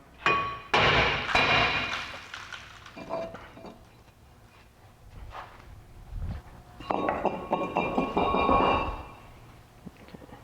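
Metal rings out under hammer blows on a rusted brake rotor of a 2004 Subaru Legacy: a few scattered strikes, a pause, then a quick run of clanging hits near the mic.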